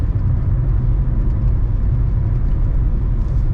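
A loud car engine runs steadily, a constant deep rumble and whir that fills the whole stretch without pause, close and dominant with no voices over it.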